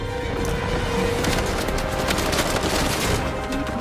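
Rapid automatic gunfire from a fast-firing weapon in the video game Uncharted 4, a dense, continuous, loud burst with no pauses and no talking.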